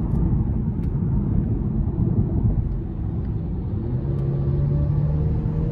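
A BMW 530xi sedan with a four-cylinder turbo engine accelerating hard in sport mode, a steady rumbling engine drone heard from inside the cabin with no talk.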